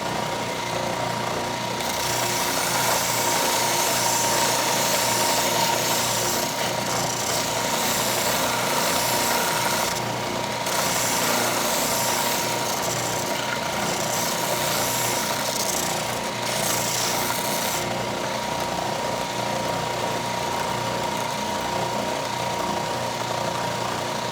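Steady, loud abrasive sanding on a guitar body from a Stew Mac Mini T kit, a continuous gritty whir running unbroken for over twenty seconds, close and alone without talk.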